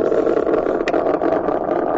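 A steady, droning electronic hum plays continuously at moderate volume, an electric car's low-speed pedestrian warning tone from the front speakers in drive, with a faint brief click midway.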